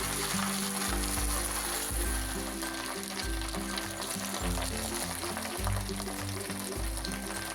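Mallow leaves (sochal) frying in hot oil in a kadai, a steady loud sizzle and crackle with a low rhythmic hum running underneath throughout.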